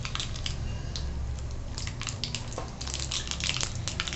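Mustard seeds splutter and pop in hot oil in a wok, a steady, dense crackle of sharp little bursts running continuously and close throughout.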